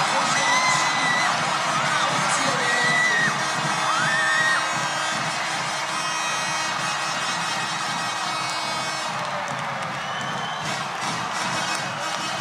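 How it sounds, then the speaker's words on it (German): Fans at a Swiss wrestling championship bout in Willisau cheer steadily from a distance, a dense crowd roar with whoops and whistles rising over it for about twelve seconds. "Jubel bei den Fans"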